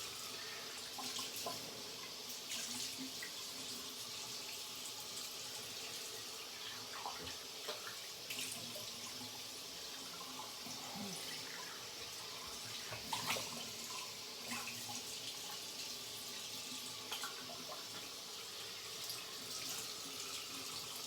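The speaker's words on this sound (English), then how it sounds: "Oh, okay, I'm gonna rinse for a while. You're gonna listen to it." Water running steadily from a tap while rinsing a freshly shaved head, a constant soft splashing hiss with small irregular splashes over about twenty seconds, fairly quiet and with no talking.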